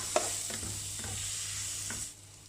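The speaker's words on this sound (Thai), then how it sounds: "เราก็จะใส่เป็นหอมใหญ่ ผัดจนหอมใหญ่เขาเปลี่ยนเป็นสีใสๆนะคะ" Onions stir-fried in a pan, giving a steady hiss of sizzling oil with a few soft spatula strokes, close and unbroken until it eases off near the end.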